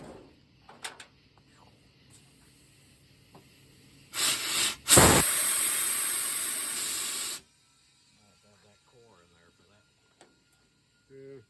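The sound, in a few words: air hissing from an air nozzle on a trash truck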